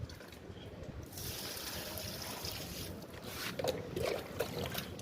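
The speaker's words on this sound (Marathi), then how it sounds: "तर आपण आता झाडांना पाणी घालून" Water pours steadily onto potted plants in a small home nursery, a continuous rushing splash that starts after a brief quiet moment and carries on close by with slight surges.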